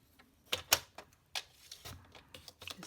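Paper being cut with a trimmer blade for making Christmas treat boxes, giving a few sharp, close clicks and slicing snaps in an otherwise quiet room, with no talking.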